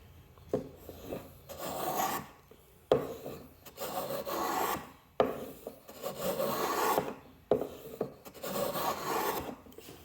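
A KAKURI Japanese hand plane shaves full-width, full-length curls off a wooden mallet, each stroke a loud rasping swish of about two seconds, repeated four times in a steady rhythm with short pauses between, no talking.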